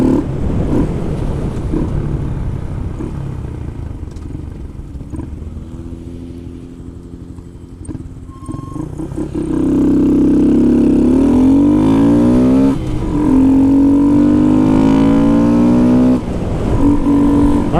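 A Honda Grom motorcycle with the baffle fitted in its exhaust idles roughly, then revs up loud and close in several rising sweeps that fall back between pulls.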